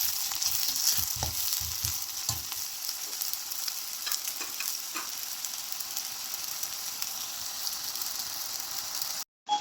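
Chopped onion sizzles steadily in a hot pan while it softens for chicken kondattam, with a few stirring scrapes early on and the frying hiss continuing at an even level until it cuts off.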